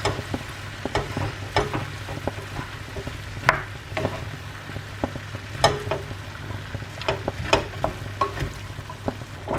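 Tomato purée is stirred in a hot pan for a stuffed butternut squash filling, giving soft sizzling under a steady stream of small scraping and tapping spoon strokes.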